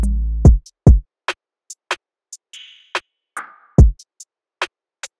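A programmed FL Studio drum pattern plays with heavy, booming kick hits landing under crisp hi-hat ticks and a couple of short swept percussion accents, clean and close.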